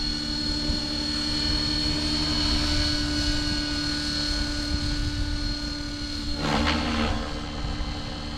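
Align T-Rex 550X RC helicopter flying inverted outdoors in cold weather, a steady high-pitched rotor whine and buzzing hum throughout, with a brief swell in pitch near the end.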